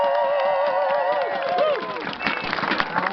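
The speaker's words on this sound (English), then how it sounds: "So let's give them all a big round of applause" An audience at a British Columbia political event breaks into steady applause, dense clapping and some cheering filling the room, with music running beneath and a few voices rising over it.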